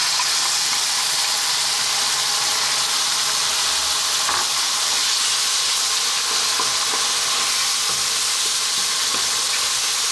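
A can of tomatoes poured into a hot pan for prawn, garlic and chilli linguine sets off a loud, steady sizzle and hiss that lasts throughout.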